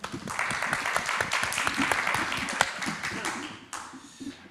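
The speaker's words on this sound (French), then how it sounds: "On t'applaudit encore." An audience at a conference presentation breaks into applause, dense clapping that builds then tapers off, with voices murmuring underneath.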